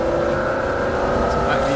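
A McLaren hypercar engine pulls at 3,000 to 5,000 rpm in third gear on very light throttle, giving a loud, steady, continuous drone heard from inside the car.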